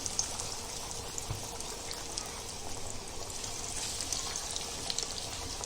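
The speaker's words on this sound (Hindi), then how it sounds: "अभी हम इसको फ्राई कर रहे हैं।" Breaded chicken triangles deep-frying in hot oil: a soft, steady hiss of bubbling fat with faint crackles, even and continuous, heard close up with no voices.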